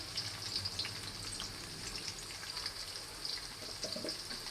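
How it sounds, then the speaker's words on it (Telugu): Mango rice ingredients with salt and turmeric fry in a pan, giving a steady, faint, hissing sizzle with light crackles and a brief stir near the end, and nobody speaking. "బాగా వేయించుకోవాలి"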